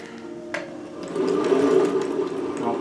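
An Elna Lotus 25 ZZ sewing machine runs a zigzag stitch, a steady close whirring hum that rises after a brief click and holds at an even pace.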